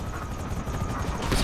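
A helicopter in GTA 5 thumps close and loud with a rapid, regular rotor beat over a broad engine roar, swelling slightly at the end.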